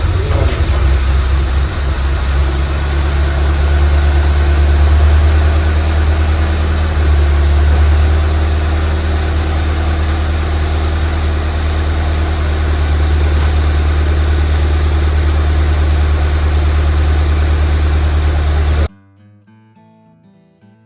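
A freshly rebuilt Ford Fiesta ST engine idles steadily with a deep, even, continuous rumble close by, running alone until it cuts off near the end, leaving quiet.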